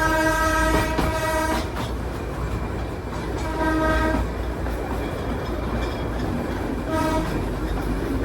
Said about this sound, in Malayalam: ട്രെയിൻ കൂടുതലും ഇതുപോലെയുള്ള ഇടുങ്ങിയ വഴിയാണ് പോകുന്നത്